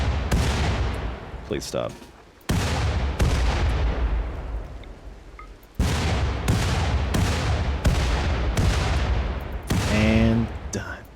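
Several grenade blasts in the colony-sim game Rimworld, a string of loud, sharp booms with long rumbling tails, one after another, with a brief voice speaking over the barrage.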